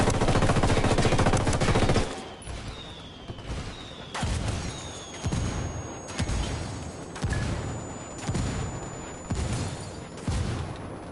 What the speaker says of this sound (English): Target marked. Calling for indirect fire.